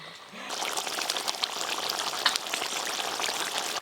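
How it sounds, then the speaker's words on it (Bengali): Fish curry made with chela river fish being poured out of a pan, a steady wet splashing pour that runs close by for several seconds without pause. "চেলা মাছের ঝাল তো হয়ে গেল, ঢেলে নেব।"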